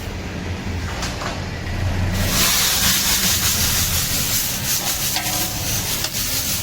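Urad dal being ground on a traditional stone hand mill (jaate), giving a steady, close gritty rubbing and grinding noise that grows louder and harsher after the first couple of seconds, with no talk.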